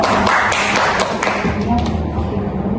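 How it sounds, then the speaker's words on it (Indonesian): Students in a classroom give a short round of applause, loud scattered claps and thumps that fade out after a couple of seconds. "Berikan tepuk tangan untuk teman-temannya."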